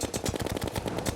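Rapid automatic fire of regular bullets in the video game Terraria: a quick, even burst of roughly a dozen punchy shots in steady rhythm, loud and close.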